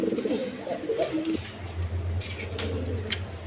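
Big Lahori pigeons coo in low, throaty bursts, several birds overlapping close by, with a steady rumbling hum running underneath.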